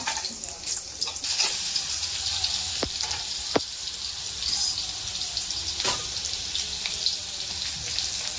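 Mustard seeds and ground garlic fry in hot oil as a dal tadka is prepared, giving a steady bright sizzle throughout with a few sharp crackles and pops rising above it.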